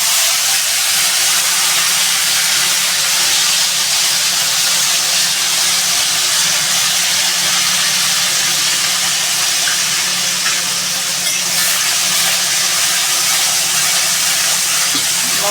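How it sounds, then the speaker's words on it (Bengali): Cumin and coriander masala sizzles while frying in a pan, giving a loud, continuous steamy hiss that stays steady throughout and carries no talk. "মশলাটা পুরো ভালো করে আমি ভেজে নেব"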